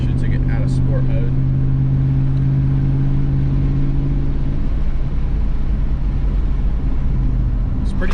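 Ford F150 5.0 V8 fitted with a Borla ATAK exhaust pulling away gently from a stop, a loud deep exhaust drone with steady low tones that rises and then eases off, close to the microphone.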